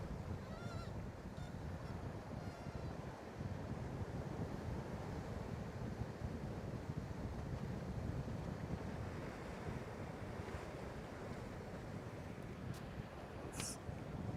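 Wind buffets the microphone on the Kona coast in Hawaii, a constant low rushing roar that mixes with surf-like noise and stays fairly faint and steady the whole time.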